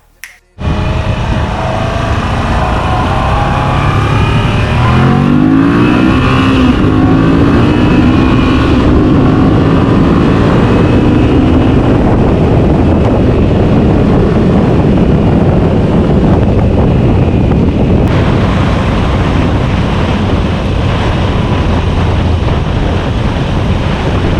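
Loud, constant wind roar buffets the microphone inside a Scorpion Exo AT 950 helmet, with a low engine drone underneath throughout the motorcycle ride.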